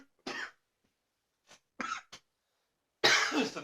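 Several separate coughs ring out close and loud: a short burst, a faint one, then a pair, and a final longer, harsher fit, with silence in between.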